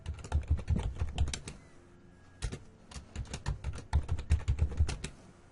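Someone types a website address on a computer keyboard on a lab server, in close, crisp runs of key clicks with a short pause partway through. No one speaks.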